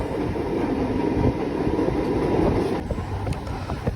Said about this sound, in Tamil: நம்மளோட ரயில் வந்து போய்கிட்டு இருக்கு